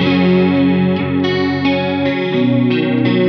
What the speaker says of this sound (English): The Candy Floss Chorus, a straight up chorus pedal.